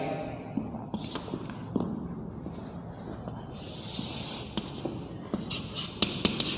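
Marker or chalk writing on a board during a chemistry lesson on gas solubility, soft scratchy strokes and taps in short bursts with a longer hissing stroke midway, faint and close, with a teacher's voice at times.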